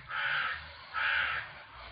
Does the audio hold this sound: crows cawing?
yes